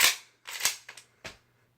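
Mossberg Shockwave pump-action shotgun being racked, several sharp metallic clacks and slides in quick succession, close and crisp, with no talking.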